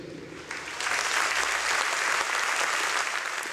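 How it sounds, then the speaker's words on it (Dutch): Football supporters applauding in a stadium at a match honouring Anderlecht figure Michel Verschuren before the game against KV Kortrijk, a dense sustained wash of clapping from a large crowd swelling up and holding steady. "Er is een enorm applaus"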